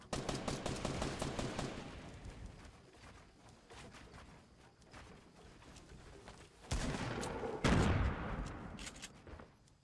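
Rapid gunfire and heavy C4 explosive blasts from a Fortnite Battle Royale match, dense bursts of shots with two louder booming detonations later, loud and continuous without speech.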